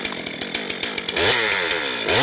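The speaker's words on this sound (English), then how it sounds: "in the right hands, this chainsaw becomes an artist's primary tool" A chainsaw carving wood for sculpture, loud and close, with sputtering idle pulses that rise into a steady high-revving roar as the blade bites in.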